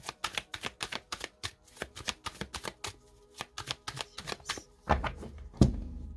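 Tarot cards riffled and cut in a brisk run of dry, rapid flicks, close and clear, ending in a couple of heavier thumps as the deck is squared.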